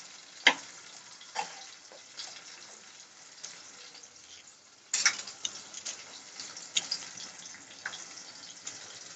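Sliced onions tossed into hot oil for a gongura prawn curry, giving a quiet, steady frying crackle with sharp ticks and clinks of a spoon stirring in the pan, and no talking.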